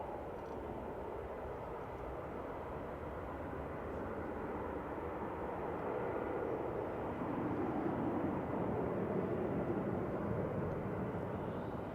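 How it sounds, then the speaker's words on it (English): An Aer Lingus Regional turboprop airliner inbound from Belfast crossing the runway threshold to land at Manchester Airport, its engines a faint, steady drone that swells slightly and lingers at a distance, alone throughout. "Aer Lingus Regional coming over the threshold here, coming in from Belfast"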